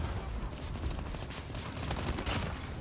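Gunfire from a mythic gun skin in a video game comes as a rapid, loud stream of shots with heavy low rumble, continuous across the whole stretch.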